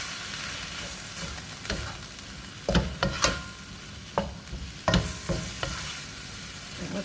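Chopped vegetables and ground turkey fry in a pan with a steady close sizzle, broken by several scraping stirs and clacks of a utensil against the pan; no one talks.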